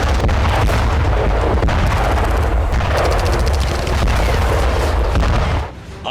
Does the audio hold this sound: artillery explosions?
yes